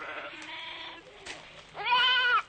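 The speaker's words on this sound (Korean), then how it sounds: "불빛과 인기척을 알아챈 염소들이 수런댔다." Goats stir and bleat in a farmyard scene of a Korean radio drama reading, a few thin, wavering bleats, the last one louder and longer, fairly close with no talk over them.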